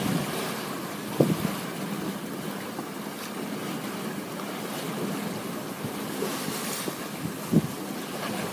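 Waves splash against the bow of a sailboat heading north at sea, a steady rush of water and wind noise with occasional louder slaps against the hull, and no talking.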